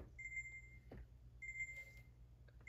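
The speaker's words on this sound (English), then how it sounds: "And ignore that alarm." A Fortnite in-game alarm beeps in two steady high tones, repeating in bursts over a low rumbling game background, fairly faint.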